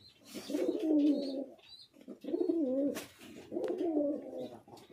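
Fancy Tiger Mukki pigeons in a breeding loft give three clear, fairly close bouts of low throaty cooing, separated by short pauses, with no talking.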